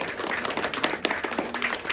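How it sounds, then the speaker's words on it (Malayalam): An audience at a family meet-up claps together in a brisk, fairly steady burst of applause, close and moderately loud. "എല്ലാരും നല്ലൊരു കയ്യടി കൊടുക്കുക ഇതാണ് കയ്യടി"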